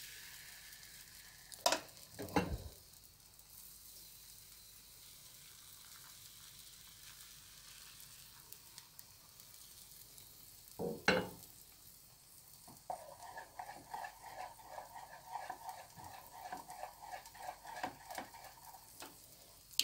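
Pancake batter sizzles softly in a hot frying pan with butter, a steady low crackle broken by a few clattering knocks of a spatula and pan.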